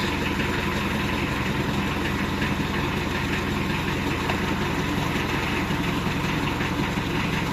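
A car engine idles steadily and loudly after a starter repair, a continuous low rumble with a slight knocking texture running the whole time.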